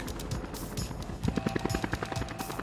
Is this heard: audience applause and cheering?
no